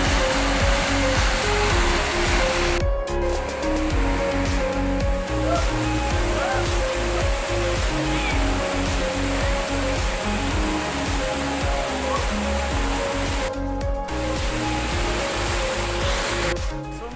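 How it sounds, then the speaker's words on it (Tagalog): Ginantalan Falls in Carigara, Leyte, produces a continuous, dense roar of rushing water, loud and unbroken for the whole stretch. "andito na tayo sa Ginantalan Falls"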